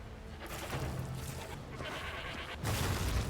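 A goat enemy in Darkest Dungeon 2 gives a few bleating cries over a rumbling game backdrop, fairly loud and close, with no talk over it.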